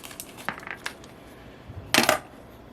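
Brooks solid copper rivets, 13 mm medium head, clink and rattle as they are handled, giving a scatter of light metallic taps followed by a brighter cluster of jingling clicks, close and fairly quiet with no talking.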